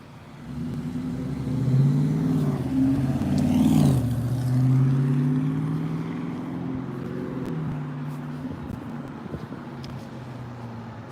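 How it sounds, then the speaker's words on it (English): A car passes along a street, its engine rumble swelling to a peak around the middle and then easing into a steady, moderately loud drone as it moves off, with no talk. "here's a black and silver car behind me."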